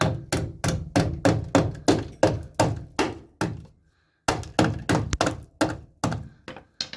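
A hammer knocks on the outer sill panel of a classic Mini Clubman Estate with close, rhythmic, heavy thunks. About a dozen strikes, a short pause, then several more.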